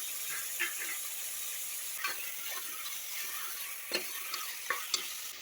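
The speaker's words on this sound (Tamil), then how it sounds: "இப்போ இதில் நல்லா வாஷ் பண்ண ப்ரான்ஸை சேர்த்துக்கலாம்" Washed prawns sizzle in a frying pan of masala with coriander and mint, a steady hiss with sharp crackles and occasional stirring scrapes, close and without talk.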